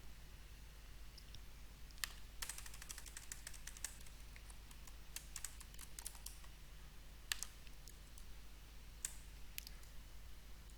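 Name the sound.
typing a username and password on a computer keyboard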